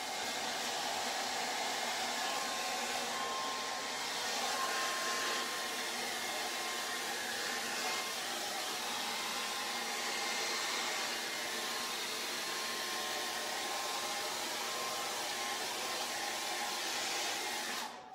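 A hair dryer blows steadily to dry paint on a mixed media figure study, a constant close whoosh that holds for the whole stretch with no talking.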